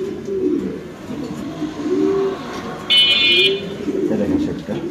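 Pigeons coo softly in repeated low phrases, with a faint chirp or buzz partway through and someone talking over them.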